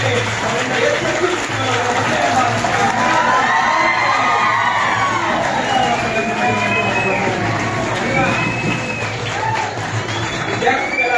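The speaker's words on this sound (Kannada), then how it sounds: "ಚಪ್ಪಾಳೆ ಕಟ್ಟಬೇಕು" A crowd at a poetry book release event cheers and shouts, with children's voices prominent, in a loud, steady roar lasting the whole stretch.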